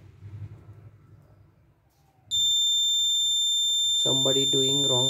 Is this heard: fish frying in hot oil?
no